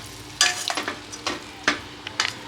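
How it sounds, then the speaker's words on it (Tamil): A spoon scrapes through thick egg gravy (muttai thokku) in a hot pan, five or six distinct strokes over a soft background sizzle. "மெதுவாக இப்படி கலந்து விட்டுறலாங்க."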